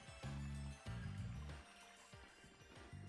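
Running water switched on during a puzzle in the game Tales of Vesperia, a loud steady gush with a gurgling, trickling low rumble that holds throughout and eases slightly toward the end.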